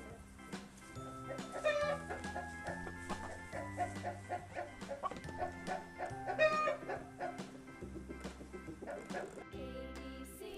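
A hen clucks in short, repeated bursts over a busy backdrop of nursery-rhyme music, the clucks moderately loud and recurring throughout.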